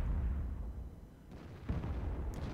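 In the World of Tanks game, an artillery gun fires a heavy, muffled boom that rumbles low and steady, with a sharper burst partway through and no talk over it.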